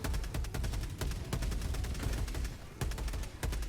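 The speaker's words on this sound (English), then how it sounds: "we hear this War Strider firing off the grenades" A War Strider in the Helldivers 2 video game fires off grenades: a dense, loud volley of sharp blasts and bangs, several standing out in rapid succession over a constant roar of battle.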